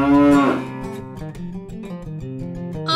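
A cow gives a loud, drawn-out moo at the start, falling in pitch, followed by a steady rhythmic musical backing with a brief brighter sound at the very end.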